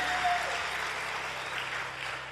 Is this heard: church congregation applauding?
yes